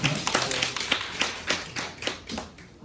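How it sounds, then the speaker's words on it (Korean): A church congregation claps to encourage high school seniors who have just sat their college entrance exam, giving a busy stretch of overlapping claps that rises and falls in a reverberant sanctuary, with no talking. "결과가 어떻든지 간에 최선을 다한 우리 고3 친구들에게 우리 격려의 박수 격려해 주시면 좋겠습니다"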